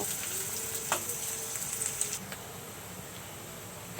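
Spices tipped into onions frying in a pan, producing a soft steady sizzle with a few brief clinks and scrapes near the start, quiet and fading slightly toward the end.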